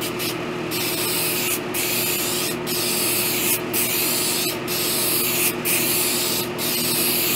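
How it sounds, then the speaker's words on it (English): Glue is sprayed onto foam for a DIY chair cushion in repeated short bursts, roughly one per second, each a loud close hiss over a steady hum, with no talking. "I'm going to put a generous coat of my glue"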